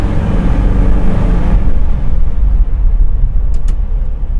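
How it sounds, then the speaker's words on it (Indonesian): A passing truck's heavy engine rumble roars loudly nearby, then gradually fades as it moves off, leaving the lower background drone of an idling Toyota Kijang Super. "Wah, pas ada truk lagi ini."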